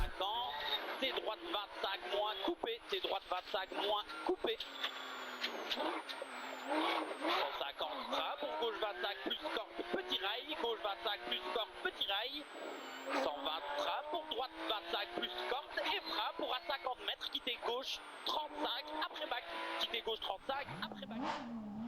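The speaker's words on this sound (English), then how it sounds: "And here's the Porsche of Cédric Charin in the final loop." A Porsche rally car on the final loop of a rally stage, its engine revving and shifting through gears with tire noise, heard faintly and at a distance beneath continuous commentary.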